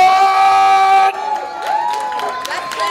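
A crowd at an island girls' team sendoff event cheers and whoops, with a sustained tone at first giving way to scattered shouts and calls from many voices.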